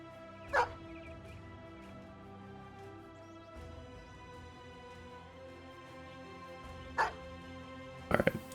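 Dogs barking in the video game Battle Brothers: a few isolated sharp barks, one early and two later, with a quick cluster at the end, over a steady low bed of game ambience and music.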